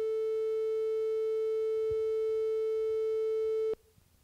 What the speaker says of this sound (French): C'est un La, c'est le La 440 du diapason